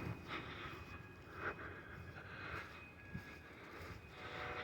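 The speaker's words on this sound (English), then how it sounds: "No, it's just a jet at an airport." A jet aircraft at an airport, heard faint and distant through fog, a low continuous roar with a thin, eerie tonal whine swelling softly, and no voices.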